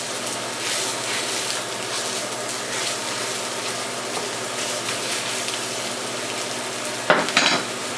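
Sausage sizzling in a pan as its fat renders out, a steady frying hiss with occasional stirring scrapes and a louder clatter near the end.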